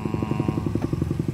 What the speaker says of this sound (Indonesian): Di sini banyak suara motor,